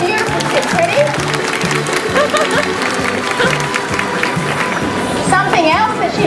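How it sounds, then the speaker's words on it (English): Audience clapping at a dog show performance in Sydney after a dog's tricks, steady dense applause with scattered children's voices and chatter mixed in. "So give her a big clap for her beautiful tricks."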